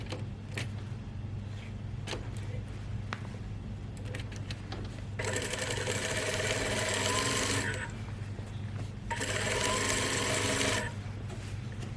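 A sewing machine stitches along the armhole of a lined overgarment. Two close, rapid stitching runs of a few seconds each rise over a constant low background hum, separated by quieter handling sounds.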